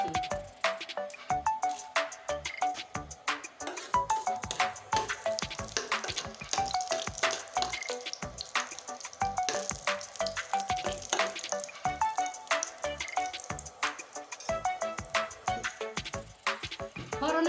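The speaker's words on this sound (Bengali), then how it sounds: "আর দিয়ে দিব দুটো শুকনো লঙ্কা ছিঁড়ে দিচ্ছি" Torn dried red chillies hit hot mustard oil in a pan, a dense crackling sizzle that continues steadily with rapid pops and spatters, while a voice talks faintly underneath.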